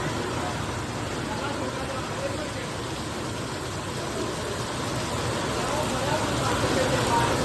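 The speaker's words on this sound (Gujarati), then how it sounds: "વરસાદ ધોધમાર ચાલુ થઈ ગયો છે ભાઈ" Heavy rain pours on the Amarnath Yatra route in Jammu and Kashmir, a loud, unbroken broadband roar that holds steady and swells slightly toward the end.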